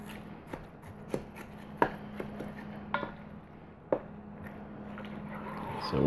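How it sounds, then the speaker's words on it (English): Penne pasta and chunky marinara being stirred in a Ninja Foodi pot set to medium, heard as soft, scattered scrapes and light taps of the utensil over a low, steady background hum, with no talking. "obviously we're going to stir this up."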